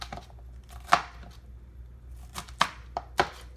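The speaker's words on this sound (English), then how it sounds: "I'm taking my green pepper and I'm slicing it into thin slices and then I'm going to chop those into little pieces" Knife chopping a green pepper into small pieces on a cutting board, scattered sharp taps at an irregular pace, a few louder strikes standing out over low background hum.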